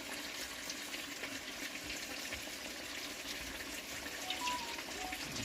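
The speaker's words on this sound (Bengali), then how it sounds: "ঘটিটায় জল আছে একটু দিয়ে তো জলটা" Water poured from a small metal pot while cooking biryani in a home kitchen, a steady close gushing splash that runs unbroken for several seconds.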